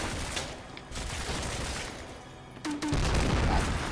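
Gunfire in the Combat Mission Black Sea war game: dense, continuous crackle of distant small-arms and heavier weapons, a steady fusillade that thickens with a louder burst near the end.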